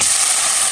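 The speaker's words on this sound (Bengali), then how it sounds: "শাকটা নামিয়ে তেলে দিচ্ছি।" Boiled leafy greens drop into hot oil in a pan with a brief, bright, steady sizzle, close and loud and without voices.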